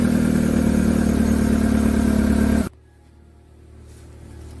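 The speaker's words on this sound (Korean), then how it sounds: "배기가스가 옆으로 새고요. 경운기 같은 소리가 나요." Idling Kia Morning engine with a leaking, holed muffler, giving a loud, rough, tiller-like exhaust chug close by for about two and a half seconds, then cutting to a much quieter low hum.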